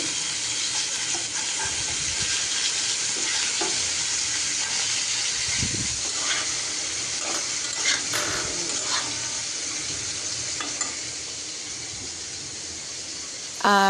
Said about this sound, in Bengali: এদিক দিয়ে মাছগুলো আমার ভাজা হয়ে যাচ্ছে তো আমি উল্টে দিচ্ছি